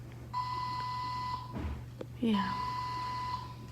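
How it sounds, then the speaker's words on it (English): Electronic beeping in a hospital room: a steady, high, sustained tone that drops out in the middle and resumes, with rustling and a brief spoken word partway through. "That is beeping, right?"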